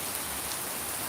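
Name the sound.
heavy rain falling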